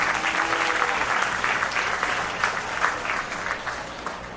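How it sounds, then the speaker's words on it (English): Audience applause for a group of young farmers and their beef calves at the Dickinson County Fair 2024 Clover Kids show, steady sustained clapping from a sizable crowd throughout. "let's give a round for this group of young farmers"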